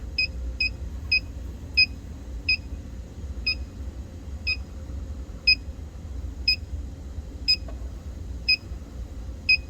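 A refrigerant leak detector sweeps an R-290 cooler's evaporator and gives sharp, evenly spaced high beeps, about a dozen in all, over a steady low hum from the unit.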